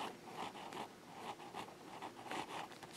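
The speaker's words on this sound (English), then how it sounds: "let's get to do some cool writing here. I really like the nib on this pen." A TWSBI Special Edition Classic white fountain pen writing on paper: quick, faint, scratchy nib strokes in a brisk irregular rhythm, heard up close and quiet, with no talking.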